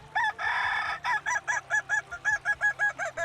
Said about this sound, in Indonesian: Ciri khas ayam kukuak balengge adalah suara kokoknya yang merdu dan bertingkat-tingkat